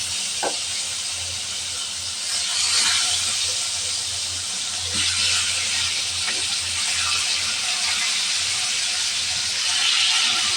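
Koi fish fry in hot oil in a pan, producing a loud, continuous hiss and spitting sizzle up close. The sound swells slightly a few seconds in and then holds steady with small pops.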